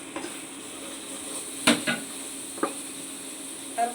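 Lentil dumplings (bori) frying in a pan with chilli, turmeric, coriander powder and salt, a steady low sizzle with a few sharp clinks and scrapes of a spoon against the pan.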